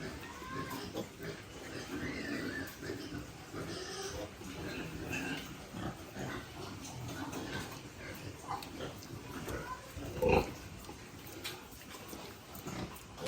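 Newborn piglets on a pig farm grunt and squeal in a steady, busy chorus throughout, with one louder sharp squeal standing out near the end over a constant barn background.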